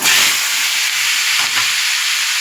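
Onions and vegetables sizzle loudly in a pan for a vegetarian pachan tarkari, a steady close hiss of frying with faint scraping from stirring and no voices.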